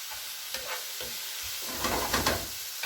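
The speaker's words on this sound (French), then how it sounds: "L'oignon qui a sauté." Onion sautés in a pan with a soft, continuous sizzle and a few scraping stirs, quiet and close, swelling briefly toward the end.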